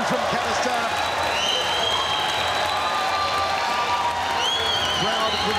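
A dense, constant roar of a crowd at a ONE Championship fight fills the whole stretch, loud and unbroken, with a commentator talking over it.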